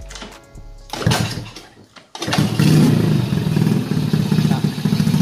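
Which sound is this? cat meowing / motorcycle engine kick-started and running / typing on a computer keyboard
motorcycle engine kick-started and running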